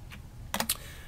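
A few quick keyboard key presses typing the Alt+F1 shortcut, a soft tap then a tight cluster of clicks close by in a quiet room.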